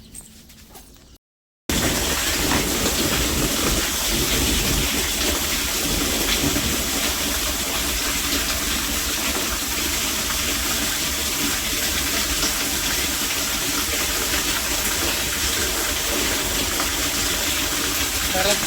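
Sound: water gushing from a tank tap

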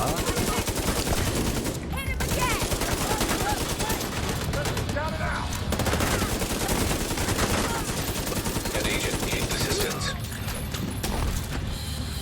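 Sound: submachine gun fire in video game The Division 2

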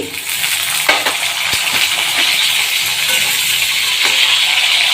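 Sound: chillies added to frying oil, sizzling

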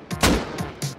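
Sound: gunshots in Rust video game

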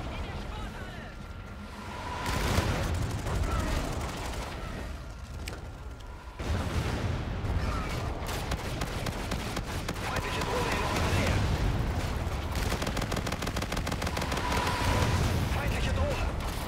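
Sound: gunfire in the video game Call of Duty Infinite Warfare

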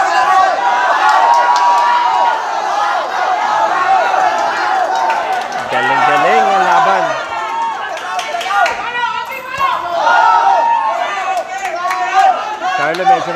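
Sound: crowd cheering at a boxing match

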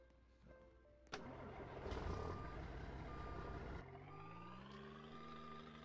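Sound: truck reversing in Roblox video game

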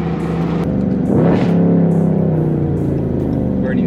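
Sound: Dodge Charger 392 Scat Pack Widebody engine revving

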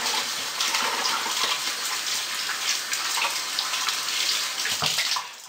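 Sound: water running from a tap while washing soap off

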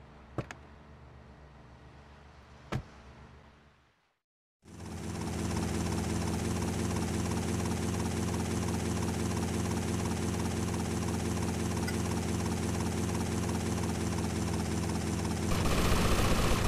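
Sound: helicopter flying in video game GTA Vice City Stories

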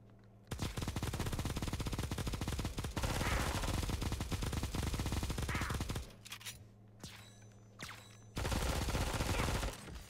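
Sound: turret spraying gunfire in video game Bullet Echo

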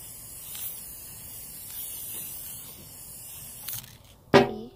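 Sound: spraying glitter spray can onto placemats

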